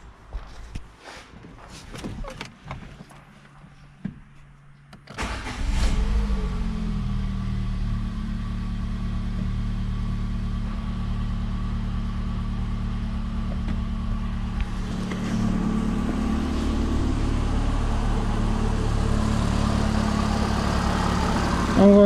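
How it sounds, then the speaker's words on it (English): A Citroen C3 1.1 engine cranks and catches after a coolant flange replacement, then settles into a steady, loud idle with a low rumble that rises slightly in pitch partway through. "Now I can start the engine."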